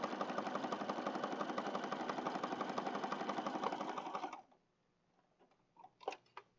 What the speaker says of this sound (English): I know I gotta put the presser foot down, but I wanted to make sure that I wasn't stitching over this stuff.